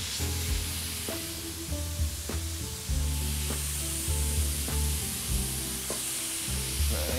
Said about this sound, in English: I will turn on the steaming wand and leave it on for about 10 seconds